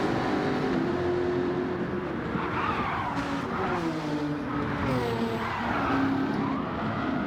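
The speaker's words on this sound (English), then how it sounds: "Oh, and JTR spins it into the wall." A race car in Gran Turismo 7 sliding and spinning into a wall during an online sports car race: a steady engine roar under squealing, skidding tires, held loud and close throughout.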